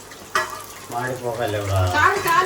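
Chicken sizzles as it fries in an oily pan and gets stirred, with scraping and stirring clatter rising and falling over the hiss while people talk nearby.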